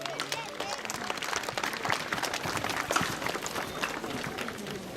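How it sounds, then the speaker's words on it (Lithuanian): Crowd applause greeting a knight at a medieval tournament, dense continuous clapping from many spectators with a voice briefly audible at the start. "Pasveikinkime plojimais riterį Algirdą."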